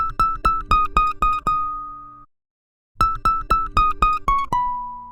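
Plucked guitar melody, played raw without effects, in two phrases of quick repeated picked notes, each phrase ending on a ringing held note, with a short silent gap between them and no voices.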